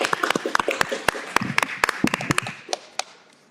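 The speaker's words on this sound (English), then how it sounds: "Keep clapping, circulate the air." A small group at a Baboquivari Unified School District governing board meeting claps in sparse, uneven bursts of sharp individual claps that thin out and fade over a few seconds.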